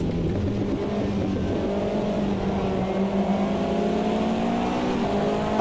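A red Intercart race car overtakes on the left in a racing video game, its engine whining steadily with a rising pitch and rumbling close and loud throughout.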